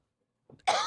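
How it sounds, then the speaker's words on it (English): A single close cough, set off by spice fumes while curry powder is made, comes after a short faint throat sound and then breaks into a loud, harsh burst that runs to the end. "all the spices make you cough a little"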